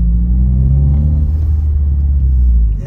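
A car engine with an ARC titanium shift knob rumbles low and steady up close during a first drive, a deep continuous drone with little change over a few seconds.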